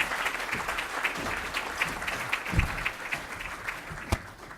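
Audience applause welcoming a speaker to the stage at a Columbus Council on World Affairs event, steady, sustained clapping from a sizable crowd in a hall, with a few louder claps standing out.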